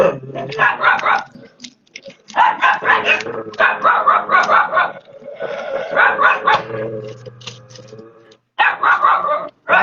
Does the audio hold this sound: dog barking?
yes